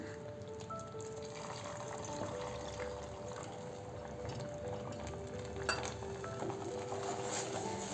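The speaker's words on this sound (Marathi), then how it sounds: "यात आपण 1 वाटी दूध घालूया।" Milk is poured from a bowl into a pan of dissolved sugar while making homemade peda, a steady close trickle and slosh over a low frying hiss with light stirring, no voices.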